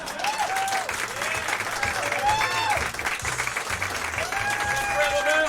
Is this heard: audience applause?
yes